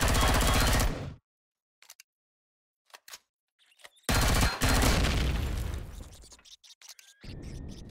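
Automated turret gunfire in the sci-fi survival game Empyrion Galactic Survival, loud sustained bursts broken by silent gaps and a few isolated sharp shots, with heavy rumbling blasts in the second half.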